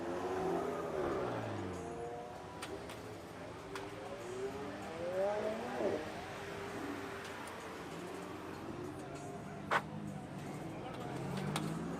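A McLaren 720S supercar accelerates past during a Halloween supercar rally run, its engine note sweeping in pitch as it approaches and passes, heard amid crowd chatter and other traffic.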